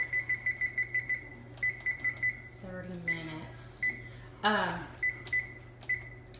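Kitchen timer being set while cooking meatloaf, with sharp high beeps in quick runs of button presses, close and clear, and a person speaking briefly between the beep series.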